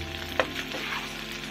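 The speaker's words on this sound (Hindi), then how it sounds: "थोड़ी देर आलू को इसी तरह हम मिक्स करते हुए भूनेंगे" Potatoes fry and get stirred in a pan, a steady soft sizzle with a single sharp scrape of the spoon early on, close and continuous with no talking.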